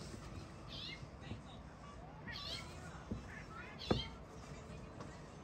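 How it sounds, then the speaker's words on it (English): A cat makes short, chirping, bird-like meows, several quiet calls spread across a few seconds, with a louder chirp near the end and a person talking softly underneath. "She's trying to meow like the birds chirp so that she can trick them into coming closer to her."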